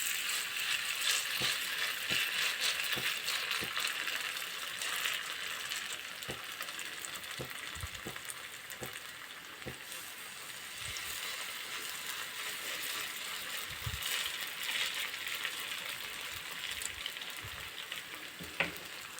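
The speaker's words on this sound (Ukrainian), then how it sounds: "будемо підсмажувати до золотистого кольору з двох сторін" Potato-zucchini fritters with minced meat sizzle and crackle steadily in hot frying oil, with scattered pops and occasional clicks, close and continuous with no voices.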